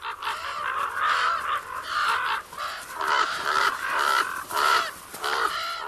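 Crows caw loudly and repeatedly, harsh calls overlapping in a busy, near chorus with hardly a gap.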